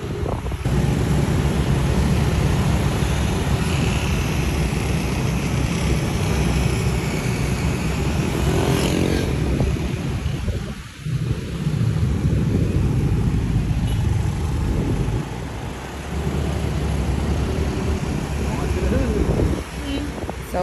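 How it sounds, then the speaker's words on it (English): Scooter riding along roads in Bali, a steady loud engine drone mixed with heavy wind buffeting on the microphone, carrying on for about twenty seconds with a brief dip midway and passing traffic around it. "we roll scooters everywhere we went"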